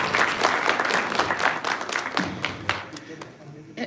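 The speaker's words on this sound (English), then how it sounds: "So let's give him a round of applause" Applause from an audience at a live event, strong at first and thinning out as it fades, with a voice speaking over the tail.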